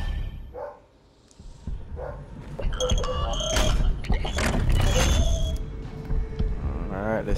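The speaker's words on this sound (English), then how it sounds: "I don't know how long he was barking for" A large puppy barks repeatedly in the background of a Doom Eternal gameplay session on PS5, with sharp yips mixed into loud game sound effects and a voice talking over them.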